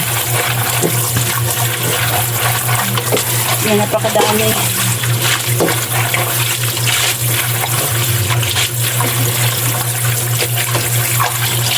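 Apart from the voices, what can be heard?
rinsing chicken intestines (isaw) in running water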